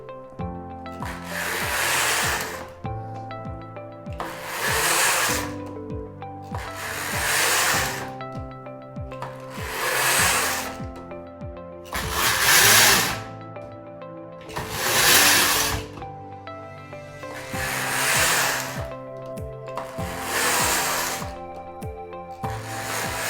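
A Knittax knitting machine knits rows of a fair-isle hat, its carriage swishing across in long regular passes about every two and a half seconds, each stroke a loud rushing rattle over a mechanical clatter, close and without talk.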